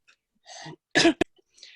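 A single sharp cough, close and loud, preceded by a soft breathy throat sound and followed by a faint exhale.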